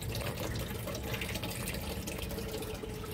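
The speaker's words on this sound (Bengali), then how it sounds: "জল এই যে নিচে থেকে তোলা হচ্ছে।" Water is drawn up from underground at an old pumping works, a dense continuous rush and splash that stays loud and steady throughout with no talk over it.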